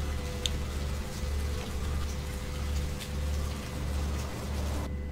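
Steady rain pours down in the video game Vampire: Bloodlines, a dense, even hiss of falling drops that holds at a constant level throughout with no voices.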